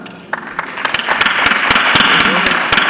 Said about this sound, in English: We should clap to that.